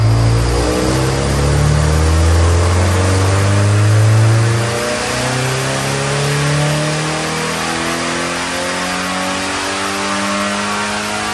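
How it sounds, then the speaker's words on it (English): A Porsche engine revs on a dyno in a loud, sustained run, climbing in pitch and then easing off into a steady drone, close up and with no voices. "I'm going to keep running up and down on the dyno and hopefully we can heat it up"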